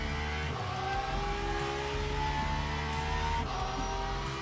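An LMP2 prototype race car in Le Mans Ultimate at Imola hums with a steady, close engine drone as it rolls slowly downhill, its pitch dipping briefly twice as if shifting gear.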